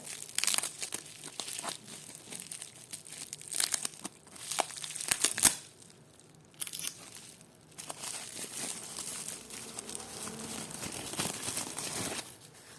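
Crinkling and tearing of thin plastic wrapping in bursts, close up, with rustling pauses between handling sounds and no speech.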